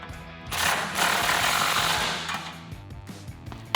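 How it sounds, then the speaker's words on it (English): Ratchet snugging down 18mm bolts on a RedRock 4x4 tubular off-road front bumper for a 2013-2018 RAM 1500, a close, rapid clicking burst with shop noise around it and a sharp knock at the end. "Moving on to the rest of your 18mm bolts, tighten them down."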